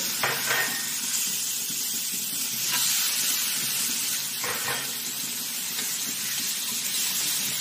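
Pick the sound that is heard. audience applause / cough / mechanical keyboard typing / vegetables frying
vegetables frying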